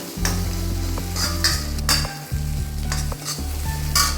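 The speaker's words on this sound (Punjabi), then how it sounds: "ਹੁਣ ਆਪਾਂ ਪਾਵਾਂਗੇ ਇਹਦੇ ਵਿੱਚ ਹਰੀ ਮਿਰਚ ਹਰੀ ਮਿਰਚ ਨੂੰ 2 ਮਿੰਟ ਭੁੰਨਾਂਗੇ" Onion and green chillies sautéing in a pan for a pumpkin (kaddu) sabzi, with repeated stirring scrapes and bursts of sizzle over a steady low droning hum.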